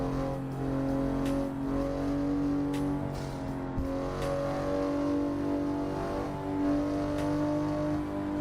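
A Supra's engine hums steadily in the racing game Assetto Corsa, holding a sustained tonal drone with small pitch shifts, loud and continuous throughout.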